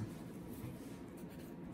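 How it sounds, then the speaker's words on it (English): A pen writes a number on paper, a faint soft continuous scratching, close and quiet, with no voices. "So I'm going to write that down."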